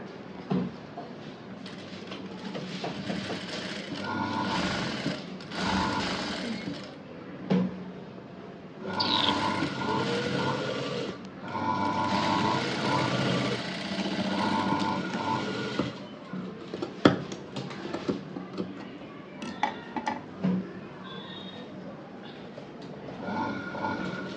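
Sewing machine stitching piping onto the V-neck of a blouse, running in close mechanical bursts of rapid whirring separated by short pauses and small clicks, with no talk.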